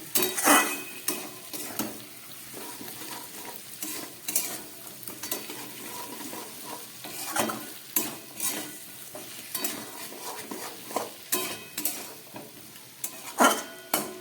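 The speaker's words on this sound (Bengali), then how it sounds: "এবার আমি দিয়ে দিচ্ছি ভেজে রাখা আলু আর কচু।" Fried potatoes and taro being stirred into a pan of spices, with repeated scraping, stirring clatter and a soft sizzle close by, no voices.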